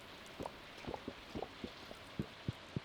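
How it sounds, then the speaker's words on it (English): Soft rain falling in the farming game Stardew Valley, a quiet bed of patter dotted with distinct drip-like plinks at an uneven rhythm. "It's raining."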